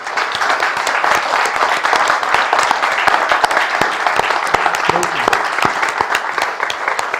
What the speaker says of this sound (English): we can give one final round of applause for everyone who was participating